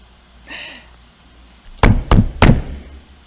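Three sharp, loud knocks on a wooden door in a children's storytelling of a Celtic fairy tale, spaced about a third of a second apart, following a brief soft tap and quiet room tone.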